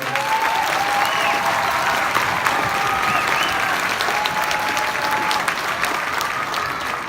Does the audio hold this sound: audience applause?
yes